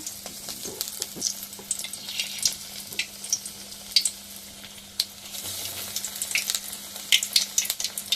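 Banana flower vadas made with onion frying in hot oil, a steady close crackle and sizzle with sharp pops scattered throughout and no voices.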